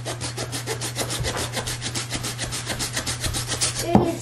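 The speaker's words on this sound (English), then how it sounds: "It's too tall, so we are trimming some of the top off." A handsaw cuts through the trunk near the top of a Christmas tree, rasping in a steady rapid back-and-forth rhythm of close, evenly spaced strokes that ends with a brief knock.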